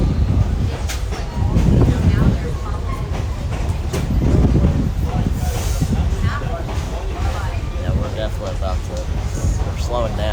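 Train ride on a rail line in Parrish, Florida, with a loud steady rumble and rhythmic clatter of the rail cars throughout, and people talking over the noise.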